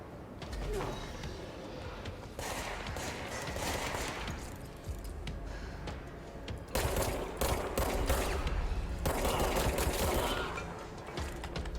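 Sustained gunfire in the video game Control, dense bursts of shots mixed with clanking mechanical sounds, loud and continuous with heavier volleys toward the end.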